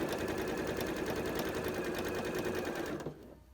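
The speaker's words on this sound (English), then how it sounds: "Taking that to my machine and running that line of stitching down that edge." Sewing machine top stitching along a skirt seam edge, a fast steady mechanical whirr with rapid needle ticks, close and even, stopping abruptly near the end.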